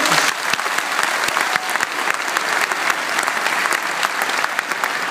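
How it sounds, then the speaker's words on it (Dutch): Warm, sustained applause from an audience at a sports gala, with sharp individual claps standing out near the front of a steady crowd clapping. "een hartelijk applaus"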